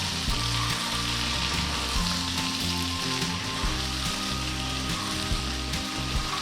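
Sausage chilli fries in a hot pan with coriander leaves just added, a loud, dense sizzle crackling continuously while being stirred, with no voices over it.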